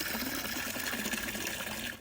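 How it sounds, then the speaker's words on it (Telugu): Fresh water running into a tub, a brief steady rushing gush from a tap, close and continuous with no voices. "ఈ టబ్లో ఫ్రెష్ వాటర్ నింపేశాను"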